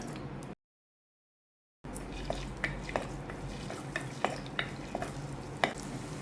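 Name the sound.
frying ginger and garlic in pan for crab curry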